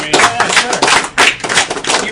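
Applause from a small group at the Awesome Games Done Quick 2012 speedrun event, a busy patter of claps lasting a couple of seconds, fairly close and steady.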